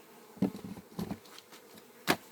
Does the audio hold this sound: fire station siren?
no